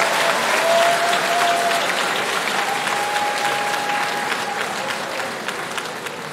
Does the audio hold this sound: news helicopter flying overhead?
no